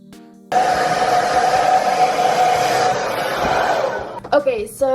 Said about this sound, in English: I'm just gonna dry my hair really fast and brush it out while I'm drying